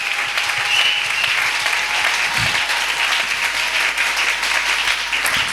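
Church congregation breaks into sustained applause, dense continuous clapping from many hands at steady loudness, with faint voices mixed underneath.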